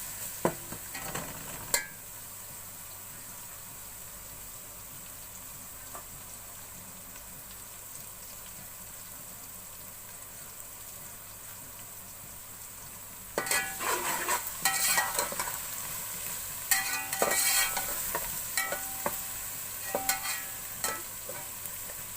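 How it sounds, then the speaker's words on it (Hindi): Steady soft sizzling of garlic paste frying in a pan over low heat, with occasional scraping and stirring clatter growing busier toward the end. "लहसुन को मैं थोड़ी देर भून लूंगी"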